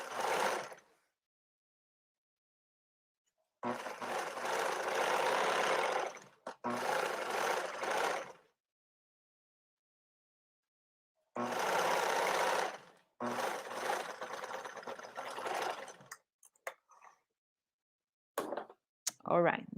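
A sewing machine stitches the seam of a circle skirt in several loud bursts of rapid whirring, stopping briefly for a reverse stitch, with quiet pauses between runs and a few clicks near the end.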